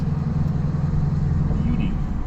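A big bore Yamaha Grizzly ATV engine idles with a steady low rumble, continuous and fairly loud, with a voice faintly over it.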